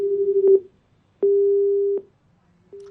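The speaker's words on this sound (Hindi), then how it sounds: "चलिए मनोज अहिरवार जी का फोन कट चुका है" A telephone busy tone after a call cuts off, a single steady beep repeating in long even pulses separated by silence, clear and close.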